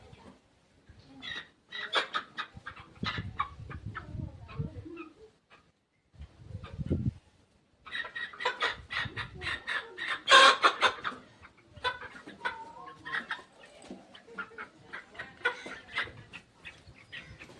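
Chickens cluck and squawk in irregular bursts, with several birds close by and brief louder cries, plus short low rustling sounds in between.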